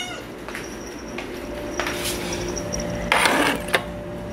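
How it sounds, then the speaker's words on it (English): A pet cat meows a few times amid household clatter and faint mechanical clicking, the short calls fairly close and spread across the moment with no one talking. "Look at this crazy cat, how he talks."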